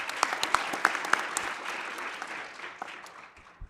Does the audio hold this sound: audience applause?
yes